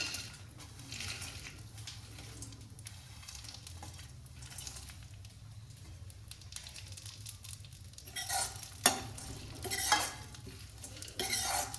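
Dry fruits frying in ghee in a pan for gondh laddoos, a soft continuous sizzle with a ladle stirring and scraping, growing louder with distinct clanks and scrapes toward the end.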